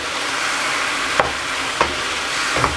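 Liver (kaleji) frying uncovered over high heat in a pan with sliced green chilies and julienned ginger, a dense continuous sizzle with three brief spoon scrapes spaced through it, close and steady.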